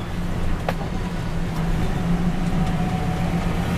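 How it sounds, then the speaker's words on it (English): A vehicle drives onto the weigh scales at the Illiana Waste Transfer station, a steady, close engine rumble with a low hum running unbroken throughout and no talking. "This is us driving straight on the scales."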